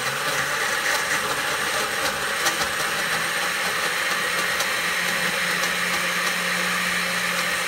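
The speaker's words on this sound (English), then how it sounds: "And then we're going to turn our blender on." A blender whirs steadily, blending whole milk and fruit into a boozy shake: a loud, continuous motor hum with a bright, gritty texture lasting throughout, with no voices.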